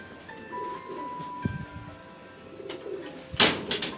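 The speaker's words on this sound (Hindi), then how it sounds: "ये चूहे कबूतर है।" Low cooing comes from chuhe kabutar, a rare pigeon breed, quiet and close, with a brief rustle or flap near the end and faint background hum.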